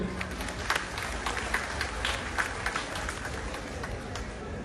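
Audience applause at a memorial gathering, a steady wash of many hands clapping at a moderate distance, sustained for several seconds with a faint murmur of voices underneath.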